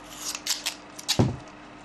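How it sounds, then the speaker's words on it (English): Scissors snip through strapping tape in a few quick close cuts, ending in a brief rasping rip. "Just cut this in half."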